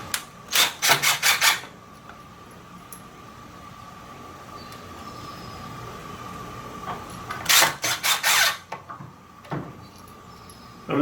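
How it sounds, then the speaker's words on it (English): Screws being started into wood for a louvered sliding garage wall, heard as two bursts of rapid rasping grinding bursts, near and loud, separated by a quiet pause with a faint steady hum. "I'm just getting the screws started."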